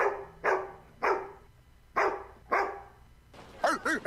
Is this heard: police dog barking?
yes